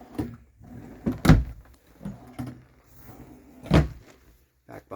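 Drawers of a four-drawer dresser in a 2018 Keystone Outback Superlite RV sliding open and shut, several close wooden knocks and rumbles in a row with short pauses between, loud and near with no talk.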